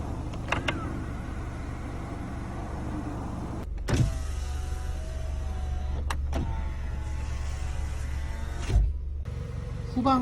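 Motorized folding side mirrors on a used Kia Soul whir steadily as the electric motor runs, with soft clunks marking stops and starts over a quiet car interior.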